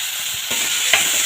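Potatoes land in hot masala in a pan for a light pabda fish curry with potato and pointed gourd, giving a bright sizzle with quick stirring scrapes across a brief moment.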